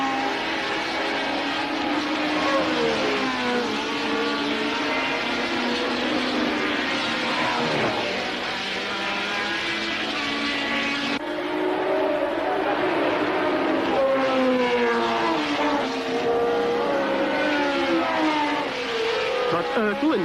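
Formula One cars race at Brands Hatch, their high engines droning and sweeping in pitch as they pass, steady and continuous beneath a commentator's voice.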